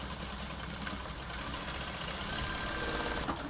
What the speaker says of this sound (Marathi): अशी एकदम कडेने अशी टीप मारून घ्यायची आहे